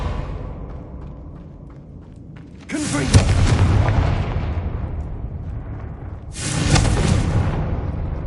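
Confringo and Bombarda spell explosions in Hogwarts Legacy, two loud booming blasts several seconds apart, each a sudden burst followed by a rumbling decay over quieter game ambience.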